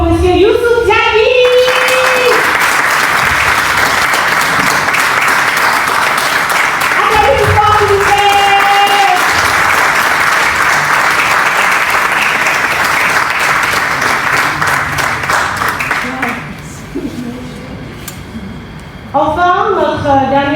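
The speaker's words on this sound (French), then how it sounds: "Acclamons pour M. Youssouf Diaby." Audience applause for a speaker at a national trading day event, broad sustained clapping from a large crowd lasting about sixteen seconds before fading, with a presenter's voice speaking over the end.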